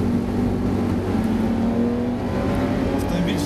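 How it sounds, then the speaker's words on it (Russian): SsangYong Rexton SUV accelerating hard from inside the cabin, a loud steady engine drone and road roar with a rising tonal whine, under a voice. "автомобиль сразу набирает скорость"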